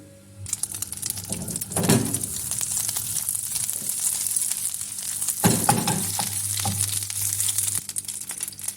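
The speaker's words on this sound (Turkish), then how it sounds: "Bir tatlı kaşığı tereyağımı ilave edip eritiyorum." A spoonful of butter melts in a frying pan, crackling and sizzling steadily at close range, with a couple of louder bursts of spatter and occasional utensil clinks.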